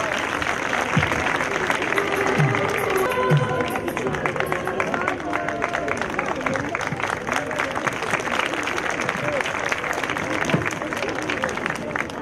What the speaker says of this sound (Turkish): Gürgen Öz, gerçeklere gülmek konuşmasıyla alkışlarınız eşliğinde huzurunuza gelir